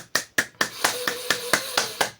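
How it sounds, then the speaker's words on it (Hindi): Steady rhythmic hand clapping during a breathing and focus exercise, about ten sharp, evenly spaced claps close by, each with a bright crisp attack and quick decay. "तालियां आपके बजता रहे और उंगली से उंगली का दबाव बढ़ जाए"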